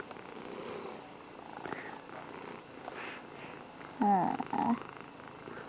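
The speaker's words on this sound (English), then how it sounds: "I never heard you purr so much in your whole life." A cat's soft, steady purr rumbles close by throughout, joined near the end by a brief fond murmur from a person.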